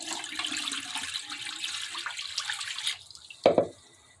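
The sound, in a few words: pouring liquid into the sink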